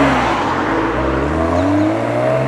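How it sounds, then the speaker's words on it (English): BMW 1 Series M coupe with a manual gearbox pulling away on the road, its engine note a steady, loud drone that climbs gradually in pitch as it accelerates, heard from inside the car with no talking. "I'm going to get behind the wheel and take this thing out on the road"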